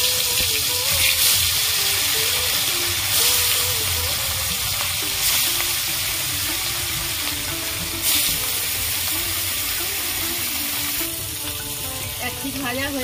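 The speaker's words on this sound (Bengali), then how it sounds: "তেল গরম হয়ে গেছে, মাছগুলো ভেজে নেব।" Pieces of black carp fry in hot oil in a wok over a stove, a steady, close, loud sizzle and crackle that runs unbroken throughout with no voices.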